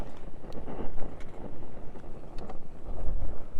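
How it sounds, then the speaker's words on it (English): Strong gusty wind buffets the microphone in uneven rumbling surges, loud and close, with no talking. "Super windy."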